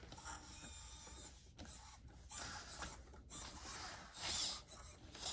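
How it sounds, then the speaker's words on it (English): A MarsCat robotic cat walking on hardwood, its feet dragging in a continuous scuffing, rasping rub over a faint motor whir, close and steady with a brief louder scrape near the end. "his feet are really dragging on the hardwood here"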